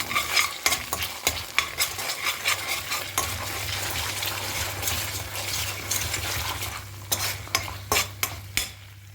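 Whole spices, cinnamon pieces and cloves, frying in a pan for a cherry tomato kuruma, with a steady low sizzle under repeated scraping stirs and sharp metallic clinks of the spoon against the pan.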